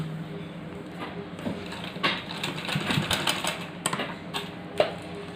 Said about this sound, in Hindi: अब दूसरा एंड बाकी है, उसको पट्टी के किनारे दूसरे साइड में सिलाई करना है।